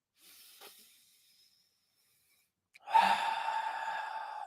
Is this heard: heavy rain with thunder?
no